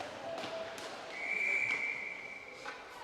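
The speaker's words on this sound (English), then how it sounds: "we're going to get a whistle here" A referee's whistle at a women's ice hockey game between Whitley Bay and Nottingham Vipers, one sustained blast heard at a distance over the low arena murmur.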